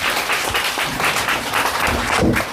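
An audience in a religious hall claps loudly and steadily throughout, filling the space with dense applause.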